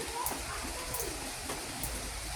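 Soft, steady rainfall patters continuously in the background, faint and even, with no voices.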